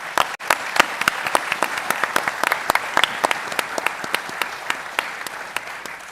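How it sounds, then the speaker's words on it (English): A crowd claps steadily at the Africa Unlocked 2025 business event, a dense, sustained round of applause lasting about six seconds with no talking over it. "Please give them a round of applause."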